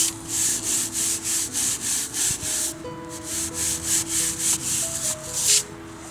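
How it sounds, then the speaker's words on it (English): Surfaces being dusted off ahead of applying spray foam adhesive to XPS insulation, a steady run of rhythmic rubbing strokes, about a dozen evenly spaced swipes, close and fairly quiet with no talking. "we gotta dust the surfaces off"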